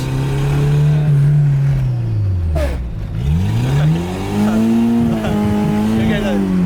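Mitsubishi DSM/Evo with a manual five-speed revving loudly up and down as the driver gives it gas, the engine note sweeping steadily, dipping and climbing again, close and dominant.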